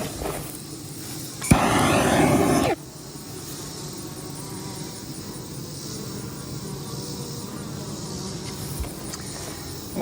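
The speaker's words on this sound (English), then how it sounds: "hives just packed with bees" Honeybees buzzing around packed beehives, a steady droning hum throughout with a brief louder rush of noise early on, moderately close.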